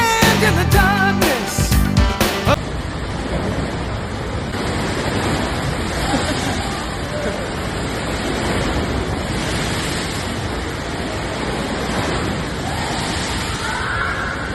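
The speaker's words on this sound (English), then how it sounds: "we had a beautiful wave display in the pool" Water surges and sloshes in a cruise ship's outdoor pool during a wave display, a continuous rushing wash with wind noise over the microphone, preceded by a brief burst of other sound at the start.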